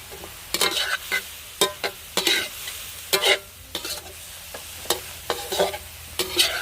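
Stir-frying soi fish with fresh green peppercorns, kaffir lime leaves, fingerroot and chili in a hot pan: a steady sizzle broken by repeated sharp spatula scrapes and clatters in an uneven rhythm, close and clear, with no talking.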